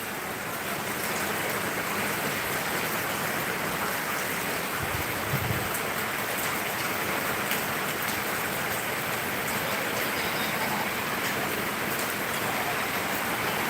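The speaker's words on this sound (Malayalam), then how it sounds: "മഴയുണ്ട്" Steady rain falls in a continuous, even hiss, with no voices over it.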